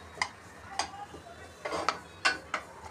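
Gram flour roasting with ghee in a pan for besan laddu, stirred over low heat: a handful of sharp, close spoon clicks and scrapes against the pan at irregular intervals, with a soft background hum.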